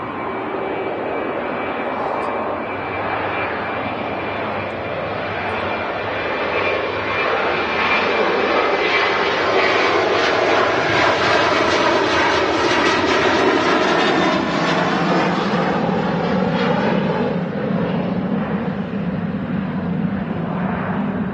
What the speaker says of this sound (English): Fair old few aircraft on the move, you know.